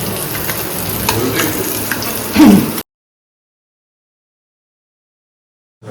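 Fish fries in a pan with a steady, close sizzle and crackle for nearly three seconds, briefly louder near the end before cutting off abruptly into silence.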